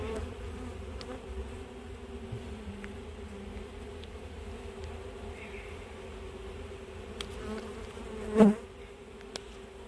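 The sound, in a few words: honey bees buzzing around an opened hive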